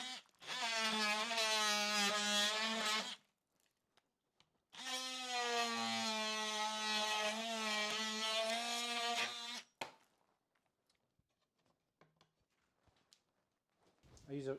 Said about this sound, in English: I'm going to use my multi-tool.